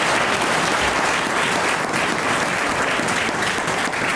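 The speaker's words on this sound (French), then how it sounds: "On applaudit." An audience claps loudly and steadily in a dense, continuous round of applause that fills the whole moment without a pause.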